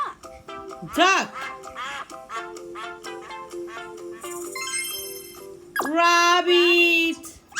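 A farm duck quacks repeatedly in loud, nasal bursts, a string of honking calls with a louder final pair, heard alone and close as part of a farm-animal sound sequence.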